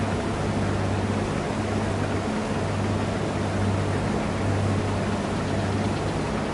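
A vehicle engine in Farming Simulator 22 on PS5, Elm Creek map, gives a steady, loud, even drone with a low hum running underneath for the whole stretch, with no voices.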